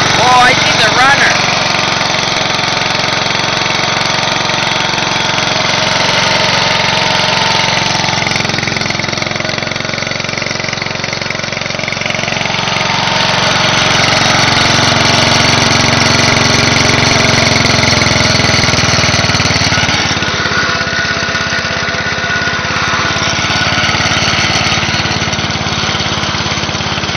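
A Spedex engine runs after a cold start with a loud, steady mechanical drone that rises a little and then settles over nearly half a minute, close by, with a brief shift toward the end.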